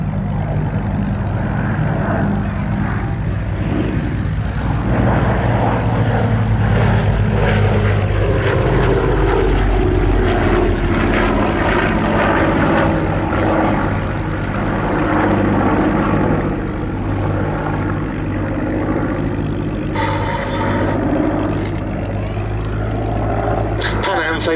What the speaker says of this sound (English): Original DC-6 model came the slightly stretched DC-6A passenger and freighter combi.